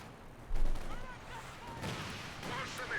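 An artillery strike in the Company of Heroes 2 war game lands as a muffled boom, followed by rumbling battlefield explosions and gunfire at moderate volume, with a voice talking over it.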